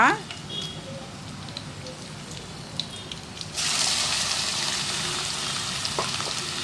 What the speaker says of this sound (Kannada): ಫ್ರೈ ಆಗಿದೆ ಈರುಳ್ಳಿ ಹಾಕೋಣ ಇವಾಗ